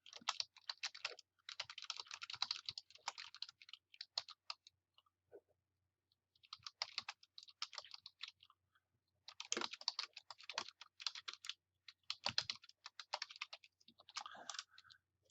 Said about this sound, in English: I'm going to type a quote that says something like, one of my favorite quotes.